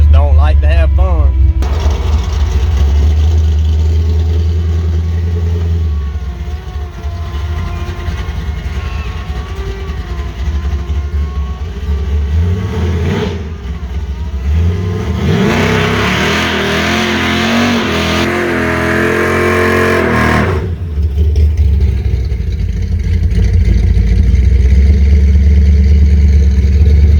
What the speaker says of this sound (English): we'll do a little small smoky burnout